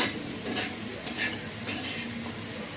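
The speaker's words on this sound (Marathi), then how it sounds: "शेवया भाजतेच आहे पण थोड्याशा मी त्यांना रोस्ट करून घेते" Vermicelli being dry-roasted in a hot pan gives a soft, steady rustle and light sizzle, with intermittent scraping strokes of stirring recurring every half second or so, faint and close.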